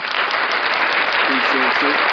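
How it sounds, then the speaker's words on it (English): A canned applause sound effect plays on a podcast, a dense, steady wash of clapping at a constant loud level for about two seconds, with a brief low voice-like tone near the end. "You get the applause."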